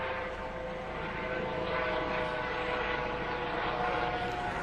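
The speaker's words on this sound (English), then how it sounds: "Helicopter." In a Slender horror video game, a helicopter flies overhead as a steady, droning engine rumble that holds at an even level throughout, with no voices over it.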